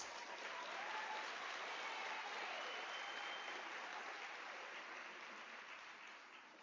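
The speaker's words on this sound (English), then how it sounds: "Let us give them a round of applause." Applause from an audience at a university graduation ceremony, a broad, continuous wash of clapping that holds steady and then slowly fades toward the end.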